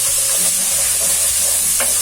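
Small capsicum pieces being stirred into a hot frying pan, a bright continuous sizzle with a few soft scraping strokes, close up and without talk.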